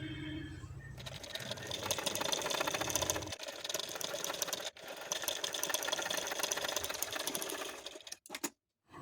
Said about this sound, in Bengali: ভালোভাবে ধরে একটা রান সেলাই দিয়ে দেব